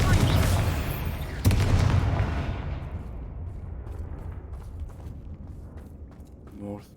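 Spell blasts from a fire-charm attack in a Hogwarts wizarding game burst out as two heavy booming impacts close together near the start, then die away into a long fading rumble with small scattered clicks.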